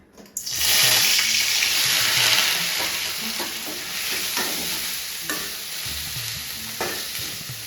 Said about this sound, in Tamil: இஞ்சி பூண்டு இது வதக்கிக்கணும்